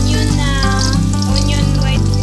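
White onion hits hot cooking oil in a pan, giving a steady close sizzle and crackle with a low hum beneath, without a pause.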